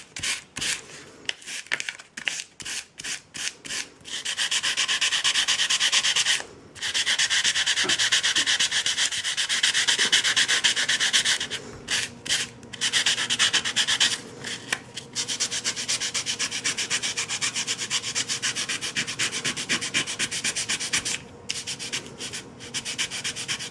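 Paint is sanded off the raised top of an RC4WD Trailfinder 2 Toyota Hilux emblem. Steady, close rasping strokes run almost continuously, broken by a few short pauses and quick taps.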